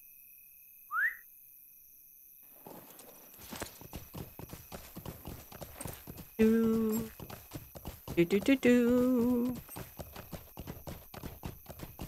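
Horse hooves clip-clop steadily in the Lord of the Rings Online video game, running under a person talking, with short whistle-like tones and a brief musical flourish in the game audio.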